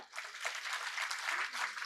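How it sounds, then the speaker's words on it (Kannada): An audience at a Kannada public talk claps for a short burst, moderately loud and alone, the applause fairly even from start to finish. "ಅದಕ್ಕಾಗಿ ವಿಶೇಷ ಚಪ್ಪಾಳೆ ಅವರು ಕೊಡೋಣ"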